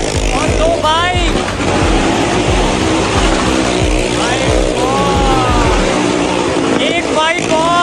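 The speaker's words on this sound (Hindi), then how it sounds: "और दो बाइक।" Motorcycles racing around the wall of a well-of-death pit at a Mandi fair alongside a Maruti 800 car, loud overlapping engine whines sweeping up and down in pitch, with people talking throughout.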